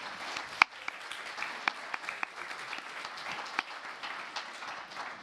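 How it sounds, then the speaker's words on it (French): An audience at an aviation airports and infrastructure round-table gives the panelists a steady round of applause, fairly distant and even, with a few louder individual claps standing out. "Donc vous pouvez les applaudir aussi, ceux qui viennent d'arriver là."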